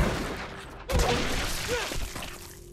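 Shotgun fire in the video game GRAV, a single loud blast about a second in, followed by a reverberant decaying tail and smaller game noises, with no talking.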